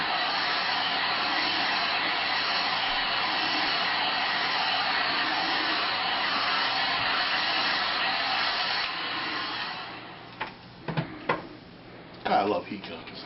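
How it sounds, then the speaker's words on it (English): A heat gun blows hot air in a loud, continuous roar for about ten seconds while softening a plastic gauntlet part on a model build, then cuts off, followed by a few handling clatters and some talking. "I love heat guns."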